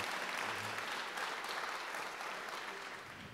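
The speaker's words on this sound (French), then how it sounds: "Vous pouvez vous applaudir." An audience applauding at a diversity and business awards ceremony, steady sustained clapping from a crowd that slowly tapers off over a few seconds.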